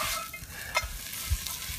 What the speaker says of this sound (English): You can hear it start to sizzle already.